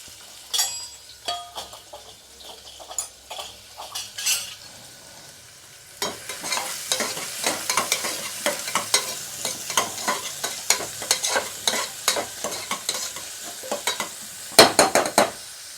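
Onions are fried in oil with cumin and mustard seeds for a mutton curry, a crackling sizzle under repeated clinking stirs of a spoon against the pan, quiet at first and then busier and louder.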